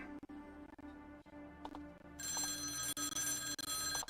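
A telephone rings in a point-and-click video game, a bright sustained electronic bell tone that starts partway through over a quiet game music bed and keeps ringing to the end.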